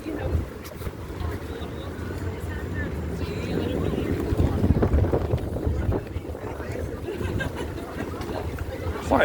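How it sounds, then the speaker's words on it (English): Wind buffets the microphone outside Belfast Grand Central station, a rough low rumble that swells in the middle, with crowd chatter and voices mixed in close by. "Quite windy as well."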